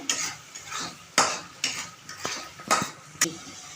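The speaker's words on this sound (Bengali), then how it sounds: "মশলা কষানোর পর্ব চলছে এখন এটা একটু ভালো করে কষাবেন" Spice paste for katla fish curry being stirred and sautéed in a pan, a run of repeated metal spatula scrapes and clinks at an uneven rhythm over a soft sizzle, close and fairly loud.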